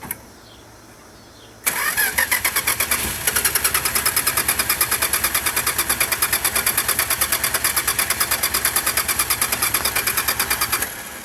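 A race car engine at a racing shop fires after a quiet moment and settles into a loud, rapid, evenly pulsing run, held near 1,000 to 1,500 rpm with a slight step up partway, close and steady until it cuts near the end.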